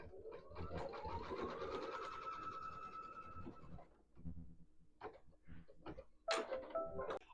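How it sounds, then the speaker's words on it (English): Embroidery sewing machine stitching a tack-down line on a pieced half-square-triangle pillow block, a close, quiet run of rapid needle ticks with rising motor whine, then scattered clicks and short bursts as it stops and repositions. "Now the next stitch it's going to do is going to be the tack down."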